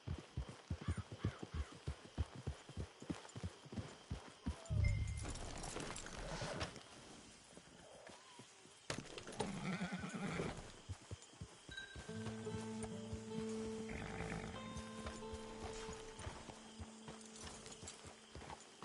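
Horse hooves in the video game Red Dead Redemption 2, a steady clip-clop of walking hooves near and moderately loud, with brief rustles and a later musical tone bed; no neigh stands out.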